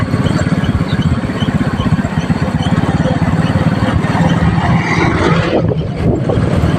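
Loud continuous motorcycle engine drone while riding, with a steady throbbing rumble and wind noise buffeting the microphone.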